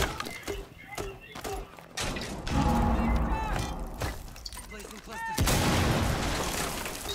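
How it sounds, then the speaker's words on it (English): C4 charge detonated during a Rainbow Six Siege match: scattered gunfire pops and cracks lead up to a heavy, loud blast near the end, with players talking over the action. "Someone detonated the C4."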